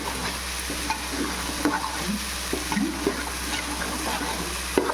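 Mutton masala fries in a pan for a mutton leg-piece biryani, a steady close sizzle broken by repeated stirring scrapes, with no talk.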